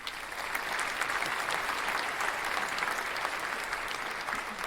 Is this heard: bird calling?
no